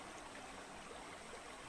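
River water at Yugawa Onsen hot spring in Wakayama flows in winter, a steady, soft broadband rush with no breaks, heard alone and fairly faint.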